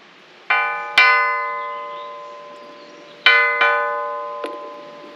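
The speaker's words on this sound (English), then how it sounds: "The Jarbidge school bell." An old metal school bell in the remote Nevada ghost town of Jarbidge rings out clearly, two pairs of strikes with long shimmering decay between them, close and loud with no voices.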